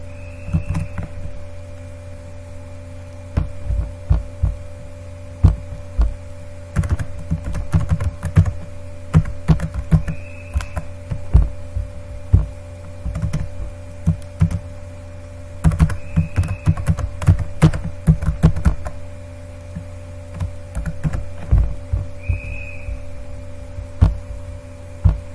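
A password is typed on a computer keyboard in irregular bursts of close key clicks over a low steady room hum, with pauses between clusters and no talk.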